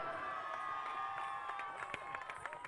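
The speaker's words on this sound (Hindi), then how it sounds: "जोर से तालियां हो जाए" Applause from an award ceremony audience at an India and Asia Book of Records event, a dense wash of clapping with some cheering, moderately distant and steady throughout.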